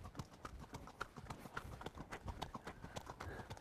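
A ridden horse's hooves clip-clop in a steady, even rhythm, soft and somewhat distant, repeating throughout with a little background noise.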